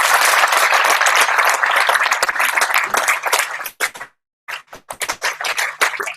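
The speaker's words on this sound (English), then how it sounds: "can we have a round of applause for the Marshalls and Dennis?" Applause from an owners club meeting for the marshals and Dennis: dense, loud clapping from a room of people that thins into a few scattered claps near the end.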